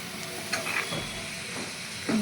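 Green garlic gets stirred into a sizzling green turmeric curry with peas, tomato and onion, a continuous close frying hiss broken by a few scraping stirs and one sharper clatter near the end.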